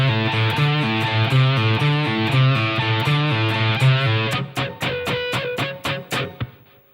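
Distorted electric guitar plays a chorus riff, sustained chords giving way to sharp, rhythmic palm-muted stabs, loud and solo with no talking.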